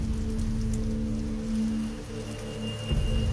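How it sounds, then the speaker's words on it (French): Steady rain falls in a dense, continuous patter, with a low tonal hum underneath and a slight dip in loudness partway through. "Piuccio, tu ne vas pas sortir sous cette pluie"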